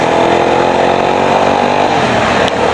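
A fuel-efficient motorcycle engine running steadily up close, a loud continuous buzzing drone with a faint ticking rhythm and no talking.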